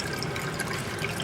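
Hose running water into a primary fermenter during a large homebrew beer batch in cold winter conditions: a steady, close rush of splashing, trickling liquid, continuous and fairly loud with no pauses.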